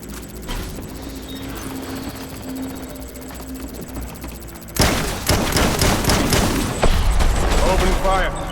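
Gunfire in the video game Death Stranding, a low rumbling ambience first, then sudden loud bursts of rapid automatic shots and booms crowding the second half, with voices talking beneath.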